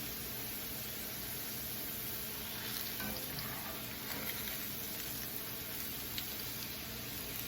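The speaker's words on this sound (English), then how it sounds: "I've got them in the oil frying." Steady, dense sizzling of potato slices frying in hot oil, with occasional crackles and pops over a continuous hiss.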